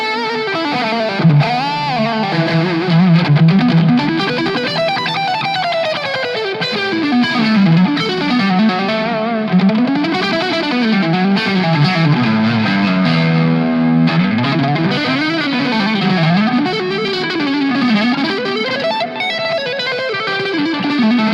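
An electric guitar plays a lively, continuous melodic line through a Two Notes Genome preset with EQ, carrying distortion and chorus-like modulation at a strong, even level without any talking.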